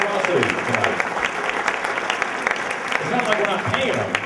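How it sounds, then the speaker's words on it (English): Audience applause fills a Four Seasons Hotel ballroom during a 2009 St. Louis charity benefit dance show, dense steady clapping throughout with voices and crowd chatter mixed in. "How about a round of applause for their generosity tonight?"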